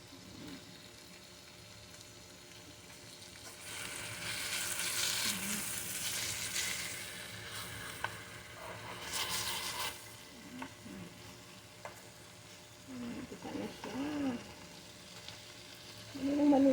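Chicken breast cooking in a pan on the stove, a steady sizzle with stirring and bursts of bubbling, moderately close, with occasional scraping near the end.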